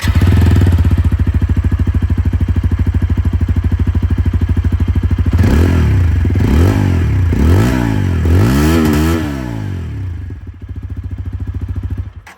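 TVS Apache RTR 160 4V motorcycle with an aftermarket exhaust, 2025 model, idling loudly and steadily up close, then revved in several sharp throttle blips before dropping back toward idle.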